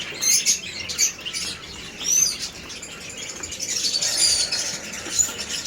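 Pet lovebirds, including a Lutino, give frequent high chirps and tweets, close and fairly loud, with bits of wing flutter over a soft rustling background.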